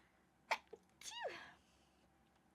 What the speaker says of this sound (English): the cold weather is making me have to sneeze